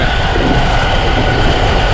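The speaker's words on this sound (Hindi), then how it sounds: "अभी हमारी ट्रेन 115 किलोमीटर की स्पीड पे दौड़ रही है" Loud, close interior roar of the Zakaria Express, a Pakistani passenger train travelling from Karachi to Multan at about 115 km/h, a dense continuous rumble of wheels and carriage with rapid clatter and no voices.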